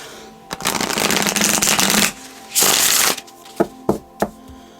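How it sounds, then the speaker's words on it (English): Tarot cards are riffled in two long shuffling bursts, followed by three quick snaps as the deck is squared or tapped, close up with no talking. "I'm having issues shuffling right there"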